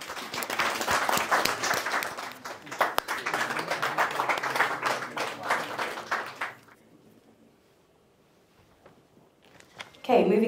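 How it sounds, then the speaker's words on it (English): Audience applause at an award ceremony: a dense, sustained round of clapping lasting about six seconds, then falling to a quiet room before a brief burst of noise at the very end. "Let's give Naiji a massive round of applause."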